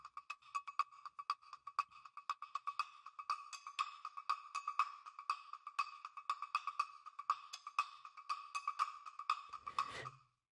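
A sampled cowbell from Native Instruments Session Percussionist plays a steady, rapid pattern of bright metallic clanks with reverb, alone and fairly quiet, ending abruptly after about ten seconds.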